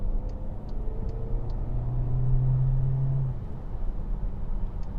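New ninth-generation Volkswagen Passat accelerating harder, a low engine drone rising for a couple of seconds inside the cabin, then easing back to a steady hum.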